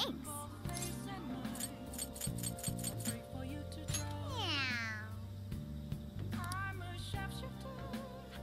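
A cat meows repeatedly in a video game, rising and falling cries over a steady musical background, with a short voice exclamation nearby.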